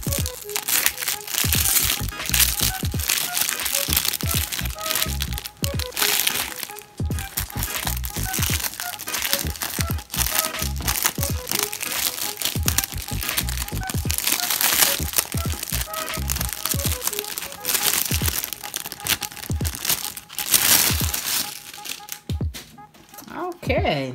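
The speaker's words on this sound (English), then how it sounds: "I'm gonna take the paper wrapper off." Paper wrapper being peeled and crinkled off a new battery-powered light box, a steady run of close, dense rustling and crackling that lasts throughout.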